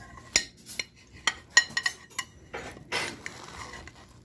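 Metal utensils clink and scrape against a dish while cutting into a baked hash brown and egg casserole, with a handful of sharp taps and short scraping strokes, close and fairly quiet.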